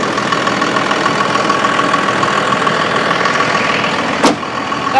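A 2001 Cummins 24-valve diesel truck engine idles smoothly and steadily at close range, with a constant even rumble and one brief sharp click near the end; no one speaks.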